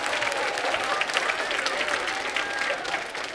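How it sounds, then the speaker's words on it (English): Parents and families at a fifth-grade winter school band concert applaud in a steady, dense round of clapping that fills the room at an even level throughout. "round of applause for yourself"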